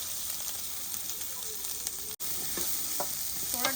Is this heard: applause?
no